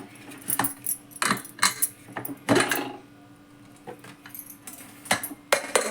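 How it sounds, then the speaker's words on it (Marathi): A cooled pressure cooker is opened in a home kitchen with a series of sharp metallic clinks and rattles from the lid and weight, irregular bursts close by with short pauses between them. "कुकर उघडते मी"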